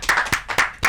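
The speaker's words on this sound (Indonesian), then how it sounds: "Sudah akhir tahun, tepuk tangan dong." A small studio audience in an Indonesian talk show claps in four short, sharp bursts, each clap crisp and close, separated by brief pauses.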